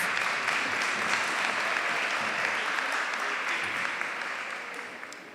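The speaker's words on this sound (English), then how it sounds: "Give them another round of applause." Applause from the audience at an inter-primary school debating championship, a dense, even roar of clapping that holds steady and then tapers off toward the end.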